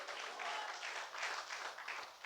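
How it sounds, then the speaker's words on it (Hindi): A church congregation clapping together, a brief burst of dense applause at moderate distance, steady and fairly quiet throughout. "ताली बजाओ जोर से, जोर से बजाओ ना, कंजूस से मत बजाओ।"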